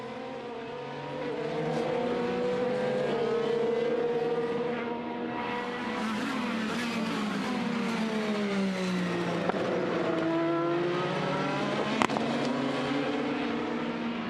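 IndyCar race cars heading back onto the track during qualifying at the Mid-Ohio Grand Prix, with several high-revving engines passing in overlapping waves, pitches rising and falling as they pass, loud and continuous throughout.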